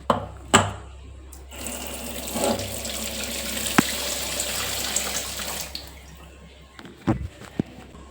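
Kitchen tap water running onto potatoes being prepared for homemade French fries, a steady splashing stream starting after a couple of knocks and flowing continuously before tapering off with a few clunks near the end.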